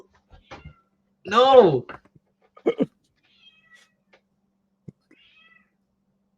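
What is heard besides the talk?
cat meowing at the door to come in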